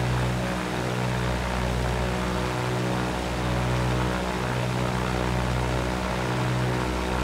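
Steady droning propeller engine of a Cessna 172 in the X-Plane 11 flight simulator, a constant hum and broadband roar holding level throughout with no talk over it.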